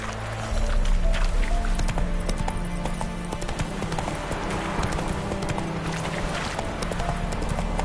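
Roach the horse gallops in a video game with steady, loud clip-clop hoofbeats that keep a running rhythm throughout, and a faint whinny comes in near the start.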